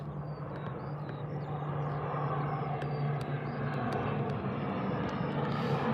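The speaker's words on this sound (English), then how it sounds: "Sure, ATR 72600. Appearing from the cloud." A turboprop ATR 72-600 airliner takes off at Birmingham Airport in fog, giving a steady, broad engine roar with a low drone that holds throughout at moderate distance, alone with no talking.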